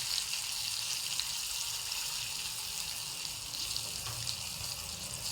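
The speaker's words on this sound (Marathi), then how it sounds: "तेल गरम झालेलं आहे। त्यात आता मोहरी, हिंग, हिरवी मिरची, कढीपत्ता," Mustard seeds, asafoetida, green chilli and curry leaves sizzling in hot oil, a steady bright hiss with faint crackles, continuous and close, no voices.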